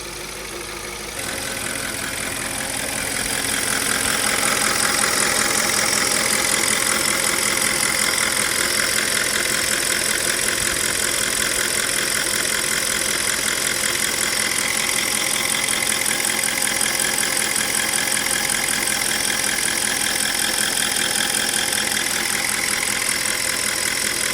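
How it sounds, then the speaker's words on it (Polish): An Audi A8 D4 4.2 FSI engine starts and settles into a steady idle while warming up after repair, running evenly and close by with a constant mechanical hum. "rozgrzewamy silnik, rozgrzewamy olej"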